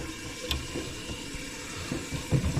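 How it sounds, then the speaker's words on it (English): Water runs steadily from a newly installed bathroom sink faucet, a soft continuous hiss and splash with a few brief louder gurgles near the end, with no one talking. "All right, so we got the sink running."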